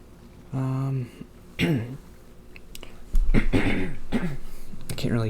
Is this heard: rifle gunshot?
no